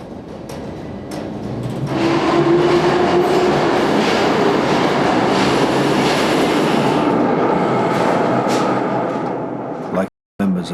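A Tokyo subway train rumbles along at steady speed, a broad continuous roar with faint rail squeal and clatter, swelling after a quieter start and cutting out briefly near the end.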